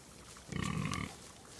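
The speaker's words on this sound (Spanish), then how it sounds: "Ahí están nuestros puercos." Pigs on a small farm where harvest scraps and leftover maize are fed, giving a short cluster of low grunts near the microphone, lasting about half a second and surrounded by quiet.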